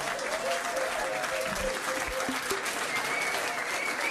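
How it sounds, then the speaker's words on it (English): A pub music quiz crowd gives a round of applause, continuous clapping from a room of people with some voices and background sounds mixed in. "Give him a round of applause"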